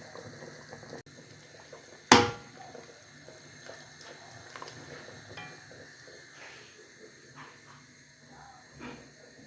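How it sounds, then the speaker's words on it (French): Soup with pistachio paste bubbles quietly in a pot at a low, steady simmer, with one sharp clack near the start. "Voilà, ça bout déjà."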